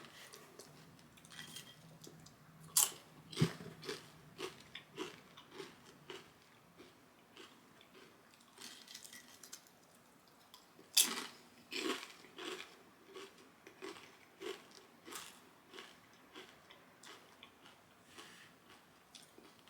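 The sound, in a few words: eating kettle-style potato chips, crunching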